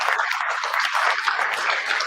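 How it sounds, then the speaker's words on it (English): Dense, steady applause from an audience at a panel discussion on Black history, sports and religion, many hands clapping close and loud with a continuous, even texture. "Give the panelists one more round of applause."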